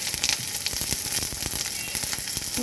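Whole garlic cloves, onion and green chilies frying in hot oil in a pan, a dense close crackle and sizzle with quick popping bursts, continuous and without voices.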